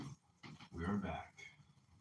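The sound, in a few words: dog whimpering and growling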